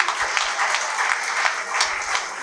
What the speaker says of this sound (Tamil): ஐயா சவுக்கத் அலி அவர்களுக்கு ஒரு பெரிய கைத்தட்டல் கொடுத்து நீங்கள் பாராட்டலாம்.